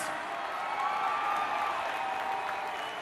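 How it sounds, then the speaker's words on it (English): A live crowd at an MMA event applauds two fighters after a featherweight title bout, a dense, steady wash of clapping with scattered cheers and whoops filling the hall for the whole stretch. "how about a round of applause for these 2 fighters?"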